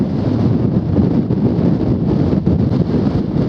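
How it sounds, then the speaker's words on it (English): Strong wind buffets the microphone on a walk between Lewes and Seaford in a continuous low roar, gusting unevenly throughout with no voices. "tell you how windy it is"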